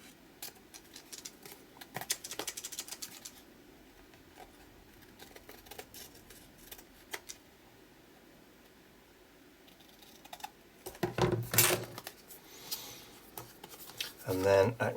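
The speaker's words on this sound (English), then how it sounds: "grab my scissors, and I can just trim off the excess." Scissors trim excess paper from a mixed media art piece, giving scattered snips and handling noises, with a louder burst of cutting near the end over quiet room sound.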